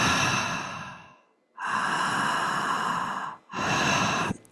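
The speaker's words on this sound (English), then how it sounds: "the sound of the breath is sounding like this" A breath is drawn in through an open mouth, like the start of a yawn. It comes as two long, airy, close-up inhalations with a short pause between them and no talk.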